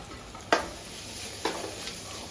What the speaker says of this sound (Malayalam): ഈ അരപ്പ് ഇട്ടിട്ട് വീണ്ടും അതൊന്നുകൂടെ ഇളക്കി